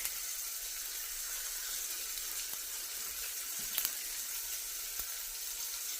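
Beef osso buco sears in a hot pan, a soft, even sizzling hiss heard at a modest distance, with a few faint clinks rising above it.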